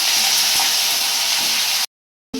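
Small onions and curry leaves hit hot oil in a cooking pan with a loud, continuous sizzling hiss that cuts off abruptly near the end.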